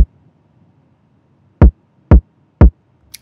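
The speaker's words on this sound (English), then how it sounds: "just add a little bit more power and boost the pleasant sounding harmonics in the kick" Three punchy, saturated kick drum hits spaced about half a second apart, each a loud low thump with bright harmonic overtones from added drive, separated by near silence.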